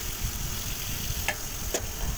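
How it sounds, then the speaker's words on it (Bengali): Pointed gourd sizzling in hot oil in a wok, a steady close-up hiss with two brief sharp pops partway through and no talking. "তেলটা হয়ে গেছে, পটলগুলো ভালো করে ভেজে নেব"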